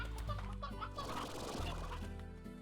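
Chicken clucking from the video game Slime Rancher, a steady run of fowl clucks layered over continuous game background music, with no talking.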